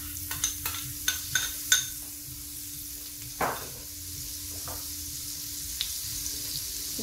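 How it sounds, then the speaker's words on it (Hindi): Garlic and ginger paste sizzling in hot oil in a pot, with a series of scraping stirs early on, then steady frying that stays fairly quiet and close. "यहाँ पे मैं इसमें ये लहसुन और अदरक का पेस्ट डाल के इसको ब्राउन करूँगी"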